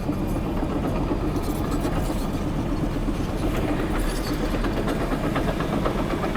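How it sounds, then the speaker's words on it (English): A mini excavator engine runs at a steady, close rumble with a low, even drone and faint mechanical clatter, holding constant from start to finish without pauses. "Mike Simon, start your engine."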